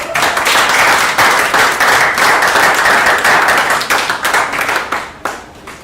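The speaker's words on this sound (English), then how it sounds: "Some better round of applause" An audience at an award ceremony for an indie book prize applauds loudly with dense, close clapping that holds steady and then thins out and fades near the end.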